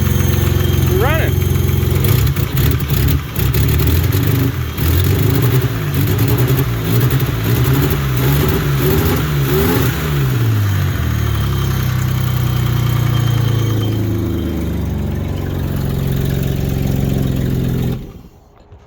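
A $500 BMW E34 with the M30 engine runs rough, its uneven idle and lumpy revs loud and close for most of the stretch before cutting off at the end; voices talk over it early on.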